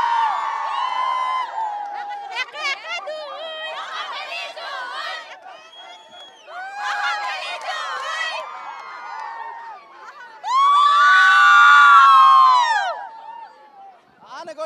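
Students at Assam Valley Academy in Nalbari cheering, whooping and shouting their slogan in loud bursts, with a big sustained roar near the end and chatter between outbursts.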